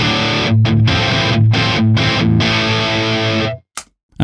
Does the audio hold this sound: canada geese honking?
no